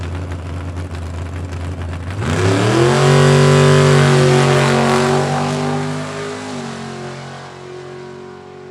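A funny car launches and accelerates hard down a dragway strip, its engine swelling into a loud, roaring rising drone that holds for several seconds before fading into the distance.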